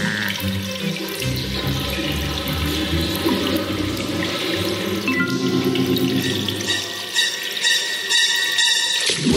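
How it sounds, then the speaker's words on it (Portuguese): Bath water in an animated Pocoyo cartoon rushes and splashes continuously and loudly, like a filling tub, with no voices over it for the full stretch. "Um banho bem relaxante."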